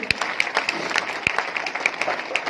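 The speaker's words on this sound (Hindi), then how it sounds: "एक बार जोरदार ताली उनके लिए चाहूंगा दोस्त।" An audience at an RCM celebration event applauds, a dense patter of many hands clapping in a continuous burst with sharp individual claps standing out.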